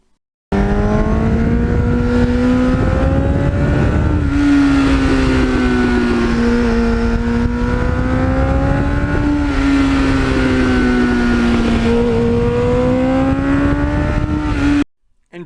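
A 1989 Kawasaki GPX750R motorcycle is ridden hard, its engine holding a loud, continuous whine that rises and falls as the revs climb toward redline, without any speech over it.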